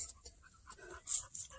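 An old dog pants in quick, soft breaths while climbing a steep hiking trail, close by and fairly quiet, with short bursts of rustling and a few louder breaths toward the end.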